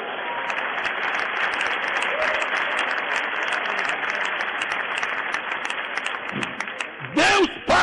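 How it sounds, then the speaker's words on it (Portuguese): A church congregation applauds in a steady, dense wash of clapping that lasts several seconds, with voices cutting in near the end. "Ei, aplausos ao Senhor."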